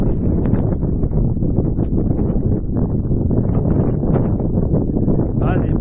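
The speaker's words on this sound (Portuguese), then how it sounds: "A neblina e o vento está bem forte por aqui" Strong wind buffets the microphone on a foggy hilltop summit, Morro Camapuã: a loud, continuous roaring rumble with gusty surges throughout, and a voice partly audible beneath it.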